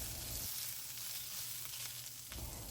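Marinated shrimp sizzles in a hot pan with a steady, dense hiss that continues evenly from start to finish, close up, with no voices.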